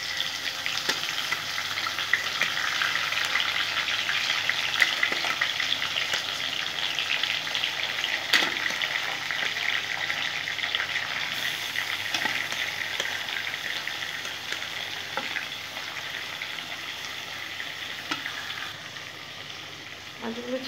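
Fish sizzling and frying in hot oil in a pan, a steady, dense crackle with occasional stirring clatter, close and continuous throughout.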